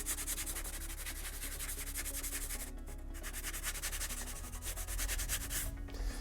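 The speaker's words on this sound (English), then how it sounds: "I'm just going to start sanding to make everything as smooth as I can" Steady, continuous rasping of wet-dry sandpaper being rubbed back and forth, close and fairly loud, with no voices.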